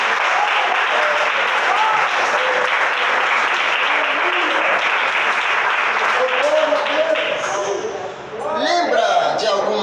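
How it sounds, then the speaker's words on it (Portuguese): A church congregation applauds loudly and continuously, many hands clapping close by, and a voice speaks over the clapping as it thins near the end. "Mais palmas para Jesus."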